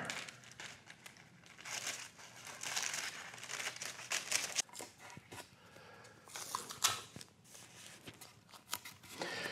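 Sheets of transfer paper are handled in a woodturning workshop, crinkling and rustling continuously up close in uneven bursts, with no talking.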